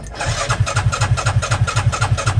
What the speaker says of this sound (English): I'm cranking and I'm not getting anything